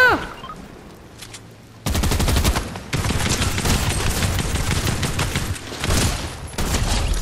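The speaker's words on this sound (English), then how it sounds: "Stop shooting at me!" Fortnite gunfire aimed at the player: a short quiet opening gives way to sustained, loud bursts of rapid automatic fire with brief breaks between volleys.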